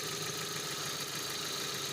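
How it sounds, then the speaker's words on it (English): Ford Focus engine running at idle with a slight misfire, a dense, steady mechanical hum and whine throughout, close and loud with no speech. "You hear how the car starts and runs."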